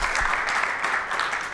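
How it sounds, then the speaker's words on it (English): Brief round of applause for panelists at a commercial real estate awards conference, steady dense clapping from an audience throughout. "Could we have a please round of applause for our panelists?"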